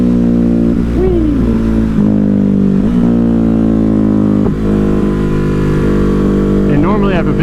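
A Ducati Hypermotard 950 motorcycle accelerates hard for a wheelie, its engine loud and close in a steady sustained roar. The pitch climbs with the revs, drops with each gear change, then climbs again.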